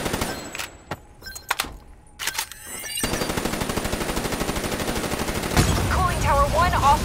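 Rapid automatic gunfire and scattered single shots ring out in Call of Duty: Black Ops III, first in bursts, then as a dense continuous barrage with a voice speaking over it.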